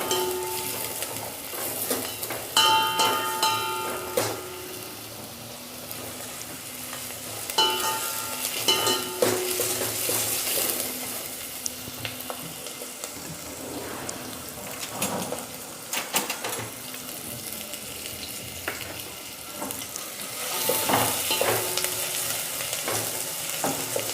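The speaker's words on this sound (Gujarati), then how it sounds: "હવે થોડું ફેરવી લઈશું અને ગેસને આ ધીમી કરી દેવાની। થોડી બ્રાઉન કરી દઈશું" Onions frying and sizzling in a pan over lowered gas heat for dal dhokli, with a utensil stirring and scraping against the pan in irregular bursts, steady close sizzle throughout and no talk.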